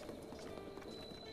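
Horse hooves clip-clopping at a steady running gait in Breath of the Wild, set against a busy in-game backdrop with a sustained musical tone; some other sounds may be mixed in.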